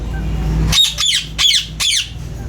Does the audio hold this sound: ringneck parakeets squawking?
yes